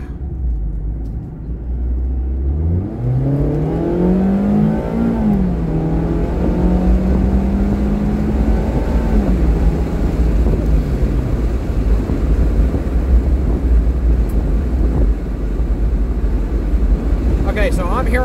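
Heavy, steady wind roar and road rumble fill the cabin of a moving 2023 Mazda MX-5 GT with the windows down, with an engine tone rising as it accelerates.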